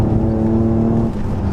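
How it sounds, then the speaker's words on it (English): A BMW 850i accelerating in sports mode, its engine and exhaust giving a loud, steady low drone that holds throughout with no talk over it. "Lovely sound coming from under the bonnet and obviously from the exhaust at the back"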